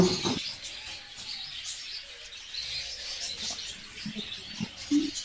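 Rainbow budgerigars at a bird farm chirp and tweet continuously, a busy, close chatter of small bird calls with a few louder squawks near the end and no talking.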